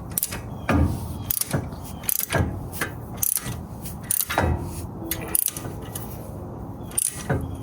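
A torque wrench tightens the ball joint nut on a Jeep Gladiator steering knuckle, giving repeated close ratcheting clicks in short uneven bursts with metallic clanks between them.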